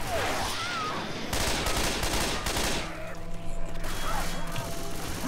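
Gunfire from the video game Left 4 Dead 2, a dense burst of rapid shots that runs loud through the whole stretch with a shift in texture midway, no talk over it.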